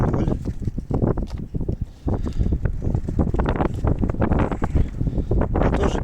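Outdoors, gusts of wind buffet the microphone with heavy low rumbling and rustling bursts, loud and continuous with brief dips.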